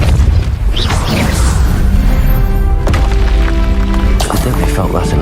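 A Depulsor spell cast in the video game Hogwarts Legacy lands as a loud, booming impact with a heavy thud and crackling, rumbling magical burst. Several sharp bangs follow over a few seconds, and a voice calls out in between.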